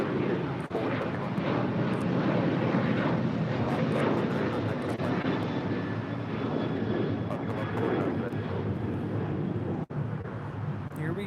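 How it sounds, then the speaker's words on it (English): A JetBlue airliner roars down runway 25 right at LAX on its takeoff roll, a loud, sustained engine rumble and whine that holds steady throughout. "This is JetBlue's new livery. Now rolling down 25 right."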